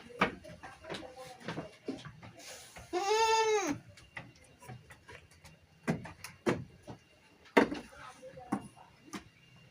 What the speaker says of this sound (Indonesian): Kambing di sini sehat-sehat semua Lur.